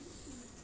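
Ferozpuri pigeons cooing softly in a steady, continuous low murmur, close by and alone with no talk over it.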